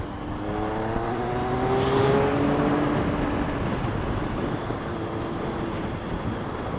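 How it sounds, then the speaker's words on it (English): Triumph Speed Triple motorcycle fitted with a Scorpion exhaust, a loud, steady engine drone with rising and falling rev tones, heard close up with no talking. "I recorded the sound of my exhaust and everything"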